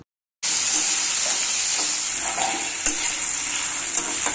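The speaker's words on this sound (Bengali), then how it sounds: "এবার কড়াইতে তেল গরম হলে দুটো চেরা শুকনো লঙ্কা আর সামান্য কালো জিরা ফোড়ন দিয়ে হালকা গন্ধ বেরালে আলুগুলো ঢেলে দিতে হবে" Potatoes poured into a kadai of hot oil tempered with split dried red chillies and nigella seeds, with a loud steady sizzle right after a brief silence and a few soft clacks of stirring on top.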